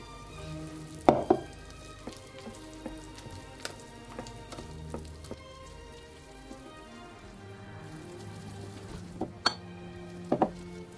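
A whisk works flour into yogurt batter in a bowl to break up lumps, giving soft, wet churning with scattered sharp taps and clicks, a louder cluster at the start and a few more near the end.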